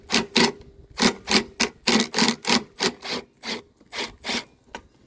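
Rapid back-and-forth ratcheting clicks as a hand ratchet removes bolts from a lawn mower carburetor, in quick bursts, a dozen or so strokes with brief pauses, close up and fairly loud, no talking.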